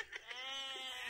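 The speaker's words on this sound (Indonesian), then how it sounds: "May kambing ka pa." Goat bleating in a rural Filipino setting, a short wavering bleat that stretches into a sustained nasal cry, fairly close and clear with faint background noise.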